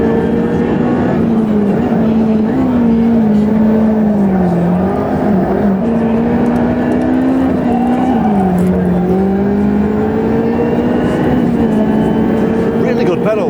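A race car engine drones loudly and steadily at racing speed, its pitch rising and dipping with shifts and heavy braking, in a continuous close-up onboard roar.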